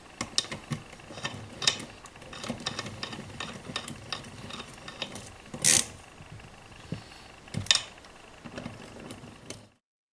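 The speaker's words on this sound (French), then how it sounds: "Nous pouvons donc maintenant effectuer un pré-serrage des vis restantes." A ratchet tool clicks in short, uneven bursts up close while the remaining engine crankcase screws are pre-tightened, with a few sharp metallic knocks between strokes.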